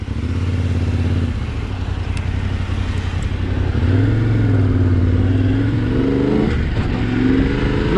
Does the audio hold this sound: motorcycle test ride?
yes